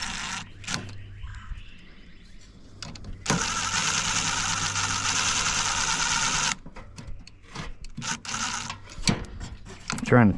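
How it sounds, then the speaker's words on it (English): A ratchet or similar hand-driven tool works a stubborn nut on a scrap copper motor, giving a steady, dense mechanical whirring for about three seconds between quieter clicks and handling noises. "Trying to turn that nut out on the other side."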